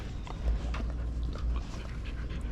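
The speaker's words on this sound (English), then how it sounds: "You're a beautiful dog, Natasha." A dog named Natasha pants rapidly and rhythmically up close, soft breathy huffs repeating steadily with a few faint whimpery notes.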